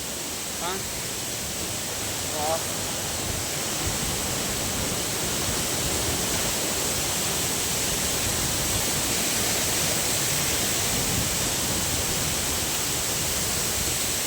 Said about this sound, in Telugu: నీటి ప్రవాహం అయితే చాలా వేగంగా వస్తుంది